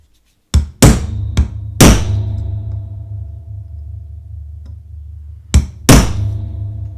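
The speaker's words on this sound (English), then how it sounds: "Take your punch, center it on the pin," A steel punch is struck with a hammer to drive the pin out of a vintage straight razor, with the tape-padded work surface beneath. Several sharp, close metallic thunks come in a quick cluster and then a pair, each ringing briefly over a low hum.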